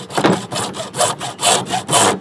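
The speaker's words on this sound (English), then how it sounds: "Now I'm going to cut them." Hand saw cutting half-inch PVC pipe for a hydroponic Dutch bucket system, about six rhythmic back-and-forth rasping strokes, close and clear with no talk.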